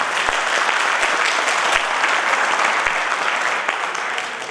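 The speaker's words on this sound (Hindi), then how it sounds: "मैं चाहूंगा जोरदार तालियां उनके लिए होगा" Loud, sustained applause fills a seminar hall as the crowd claps for a sponsor, a thick continuous patter with a few sharper claps standing out, easing slightly near the end.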